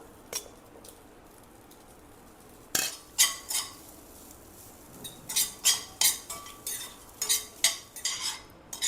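A metal spoon scrapes and clinks against a pot while stirring rice for lemon rice, in a run of irregular strokes, quiet at first, then busier and louder toward the end.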